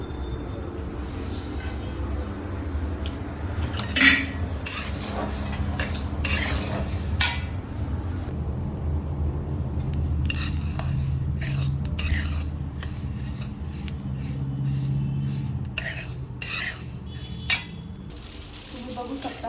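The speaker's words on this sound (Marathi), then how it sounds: "तीळ आधी ना भाजून घ्यायची व्यवस्थित मंद आचेवरती" Sesame seeds dry roasting in a pan over a low flame, with a spoon scraping and clinking against the metal in bursts over a constant low hum, no speech.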